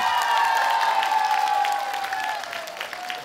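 A small crowd claps briefly, the applause fading toward the end, with a high steady tone running underneath.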